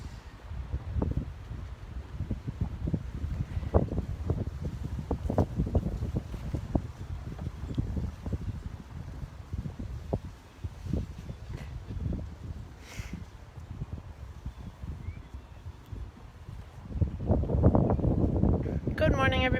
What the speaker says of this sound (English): It is a sunny but windy day here in New Bedford